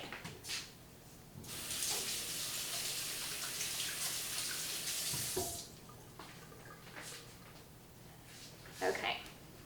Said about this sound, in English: I got some frosting on my hands, so I'm gonna wash my hands.